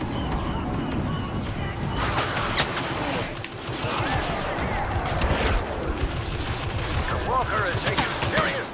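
Blaster fire in a Star Wars Battlefront multiplayer match, sounding as repeated shots and bursts at a steady, busy level, with people talking over them for the whole stretch.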